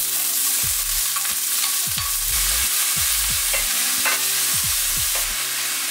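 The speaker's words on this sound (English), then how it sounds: "So I'm going to cook these delicious onions first." Onions frying in a pan on the stove, giving a steady, close sizzle broken by repeated scraping stirs of a utensil against the pan, with no voices.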